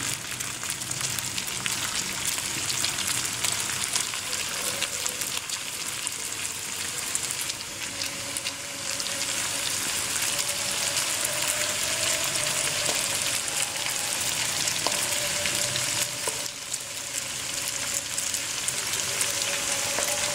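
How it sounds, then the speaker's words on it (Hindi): Toffee samosas fry slowly in oil over low heat, a soft, even, continuous sizzle like light rain, steady throughout with no voices. "ये देखिए, अब हम इनको आहिस्ता आहिस्ता फ्राई करेंगे।"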